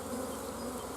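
Honeybees buzz in a steady, dense drone during a nuc install, close and continuous for about a second with no voices over it.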